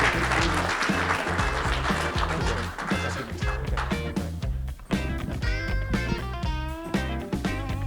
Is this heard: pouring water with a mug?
no